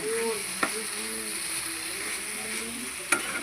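Egg bhujia filling being stirred in a hot pan for egg cheese patties, a continuous close sizzle with a spatula scraping through it and a couple of sharp taps against the pan.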